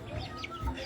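A brief, soft clucking from a nearby hen on a farm, a couple of short throaty notes over light background noise.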